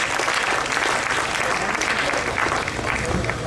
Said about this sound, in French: Applaudissez-le pour cette initiative.